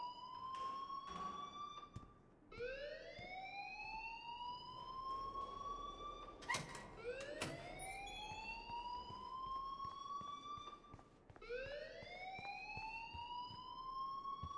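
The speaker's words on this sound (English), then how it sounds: "please turn off that alarm since that's your job" A wailing alarm rings in the Life is Strange video game, rising sweeps repeating every few seconds, steady and loud throughout with no talk over it.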